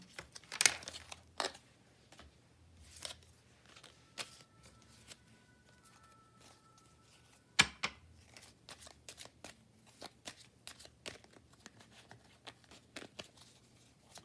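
A deck of tarot cards is shuffled in repeated short riffling and slapping bursts, spaced irregularly across a quiet room, fairly close and soft, with a few louder snaps.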